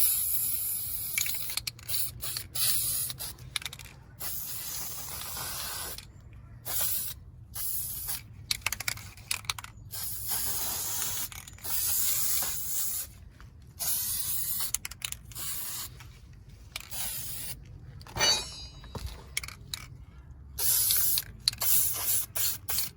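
An aerosol can sprays a third coat of paint onto Subaru WRX brake calipers, with repeated close hissing bursts separated by short pauses.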